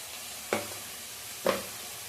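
Ground cumin paste, turmeric and salt fry in a pan for a duck egg curry, a faint steady sizzle broken by two distinct stirring scrapes about a second apart, close and quiet.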